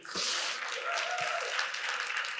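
An audience at a keynote session of an association meeting in Athens claps together in a brief, moderately loud burst of dense applause that holds steady for a couple of seconds.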